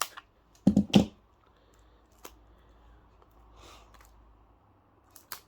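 A few sharp snips and rustles of scissors cutting through plastic packaging, clustered early, then quiet handling and a faint click at the end.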